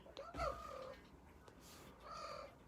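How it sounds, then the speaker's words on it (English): A cat meows softly indoors, giving two faint, drawn-out cries separated by a quiet pause. "You hear your grandbaby meowing?"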